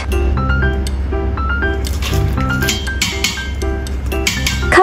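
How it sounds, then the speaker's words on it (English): Ingredients for lemongrass barley tea dropped into a soup pot, with close squishy, wet thuds and small clinks and drips in uneven bursts, set against soft background music. "Add all ingredients into soup pot."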